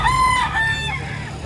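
A rooster crowing up close, one loud drawn-out cock-a-doodle-doo that rises and trails off, with no talking.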